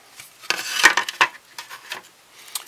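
Plastic model kit parts for a Revell Cylon Raider being rubbed with roughly 300 grit sandpaper, giving irregular short scratchy strokes, close and fairly quiet, with no talking.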